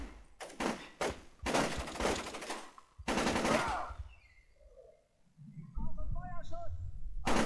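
Bursts of automatic gunfire in Splinter Cell: Chaos Theory during an open firefight, several loud rattling volleys in the first few seconds, then quieter game effects and a voice speaking later.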